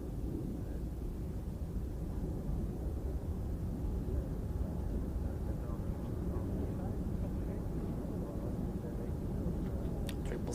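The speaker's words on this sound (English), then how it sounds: "Swiss 72 has now takeoff clearance, so we take a look how this A330" Swiss Airbus A330 airliner on the runway at Zurich Airport, a steady broad low rumble of jet engines with wind noise holding constant throughout, fairly distant.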